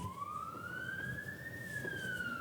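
A distant emergency siren gives a faint, steady wail that climbs and then dips slightly in pitch, low beneath a background hiss.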